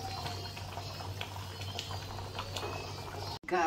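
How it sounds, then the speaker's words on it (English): Water boils in a cooking pot with a continuous, close bubbling and gurgling, heard on its own with no talk. Near the end it breaks off suddenly. "you know how when the pot is bubbling, the water on the pot"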